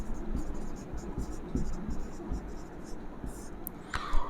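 Chalk tapping and scratching on a classroom board as a biology teacher writes, faint rhythmic strokes under quiet room noise, with talking around it.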